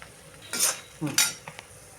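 A spoon stirs a dry mix of sesame seeds, cumin and turmeric in a pan for curry leaf spice powder, giving a few short scraping, clinking strokes close by with no talk.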